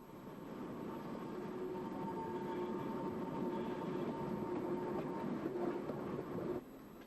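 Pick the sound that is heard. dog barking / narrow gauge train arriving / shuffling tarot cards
narrow gauge train arriving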